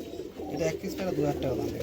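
A female Madras pigeon coos in soft, throaty repeated notes close by, with a low background murmur.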